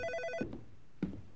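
A telephone rings in the indie horror game Terror in the Kitchen, a short burst of repeated electronic ring pulses that stops abruptly, followed by two soft thuds in a quiet room.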